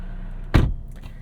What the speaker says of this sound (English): Shutting the door here